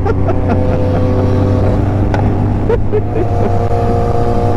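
Motorcycle engines drone loudly during a race between a Suzuki Hayabusa and a Kawasaki Z900, a steady close-up engine hum with a few sharp pops and changes in pitch.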